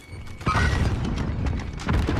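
Grenade blast in the game Warzone Pacific: one sudden loud boom with a rumbling low tail that holds steady for about two seconds, with no voices over it.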